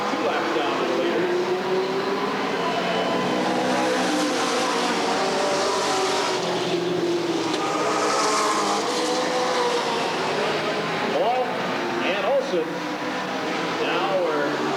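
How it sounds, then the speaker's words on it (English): Race cars lapping an oval track at Redwood Acres Raceway in a 1989 race, engines roaring steadily with occasional tire squeal, heard under continuous announcer commentary. "As they once again make their way around Bob Markin's car."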